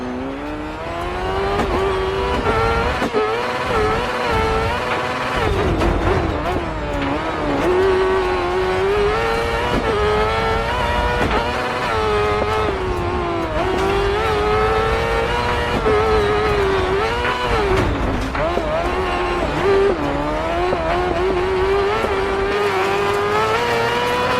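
Rally car engine in DiRT 4 on a practice lap, a steady high-revving drone with rising and falling pitch through gear changes, loud and close throughout with no talking.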